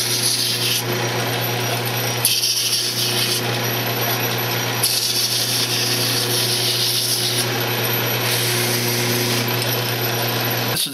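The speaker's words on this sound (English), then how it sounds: "Just fold your sandpaper over when you're working it. Run it down each groove and then around the front too." Folded sandpaper rubs along the grooves of a wooden candle holder spinning on a lathe, a continuous close rasp over the steady hum of the running machine, with the scraping swelling and easing in passes.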